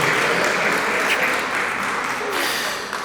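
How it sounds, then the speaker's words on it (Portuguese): A church congregation applauds at a youth service, a dense, steady wash of clapping that holds loud for about three seconds and eases slightly at the end. "Você pode dar uma salva de palmas bem forte para a palavra de Deus"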